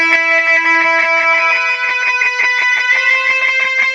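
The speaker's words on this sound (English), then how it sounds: "This is just the Logic Pro X stock echo" Electric guitar lead played through a Logic Pro X stock echo effect, a sustained bright distorted note with repeating echoed picks pulsing steadily behind it, loud and close with no talking.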